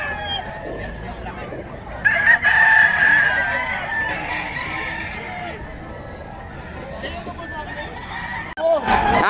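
A Lemon Sweater gamefowl rooster crows loudly and close by in one long drawn-out call amid a busy outdoor crowd, with men chatting throughout.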